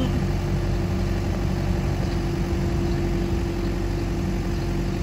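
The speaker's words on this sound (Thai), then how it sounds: "เป็นเครื่องยนต์ดีเซลนะคะคันนี้" A Komatsu FD30C-14 three-ton diesel forklift with manual transmission runs at a steady idle, a loud, even engine drone with a constant low hum and no change in pace, heard alone without talk.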